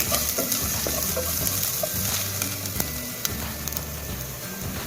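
Onion, garlic and green chillies sautéing in a pan for a quick tomato curry, a constant close sizzle and crackle with occasional stirring clinks.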